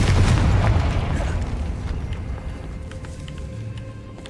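A Confringo explosion spell cast in Hogwarts Legacy, exploring a decayed catacomb: a loud, deep boom bursts at the start and rumbles away into a long fading tail, with no one talking.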